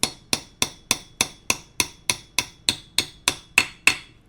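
Steady metallic hammer blows strike a brake caliper pin on a Brembo brake swap for an F-Body car, about fourteen sharp, evenly spaced close hits, each ringing briefly, with no talk.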